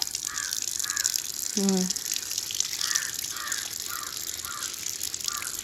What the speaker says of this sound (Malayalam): ഞാൻ ഇന്ന് കാലൊന്ന് കഴുകട്ടെ പൈപ്പ് തന്നെ കഴുകുക